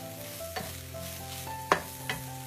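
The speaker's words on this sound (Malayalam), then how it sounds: "ഈ പൊടിയുടെ ഒക്കെ ഒരു പച്ചമണം മാറി കിട്ടുന്നവരെ ഒരു 10 സെക്കൻഡ് ഒന്ന് ഇളക്കി കൊടുക്കാം" Spice powders being stirred in a hot frying pan with onion: soft steady sizzle under a few scraping strokes of a utensil against the pan, close and moderately quiet.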